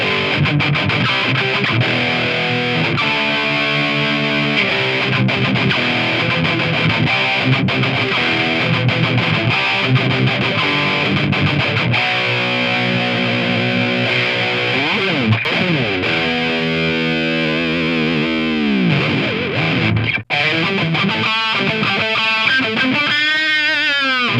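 A heavily distorted electric guitar plays steadily through an amplifier miked with an SM57, with chugging chords and sustained bends, loud and continuous with no talking.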